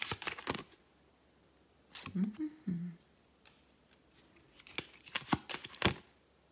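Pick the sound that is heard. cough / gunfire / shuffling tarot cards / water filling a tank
shuffling tarot cards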